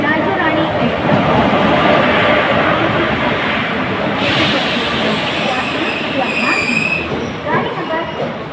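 Express train pulling into platform one at Thrissur railway station at night, a continuous loud rumble of wheels and carriages with faint squeals, under bilingual public-address announcements.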